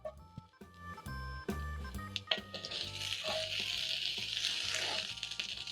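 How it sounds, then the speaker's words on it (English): Two large onions fry in a little oil in a pan, a crackling sizzle that swells and thickens partway through and then holds steady and close. "so that I can fry my onions in a little bit of oil"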